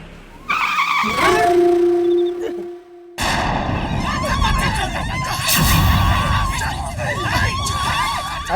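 A car skids to a halt with a long, close tire screech that cuts off suddenly, then a burst of loud, rough noise follows and continues to the end.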